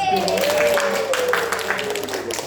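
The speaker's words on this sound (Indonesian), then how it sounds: "Tepuk tangan untuk Mas Ade." Classroom applause during a microteaching lesson, a short burst of clapping from students mixed with voices, close and fairly loud.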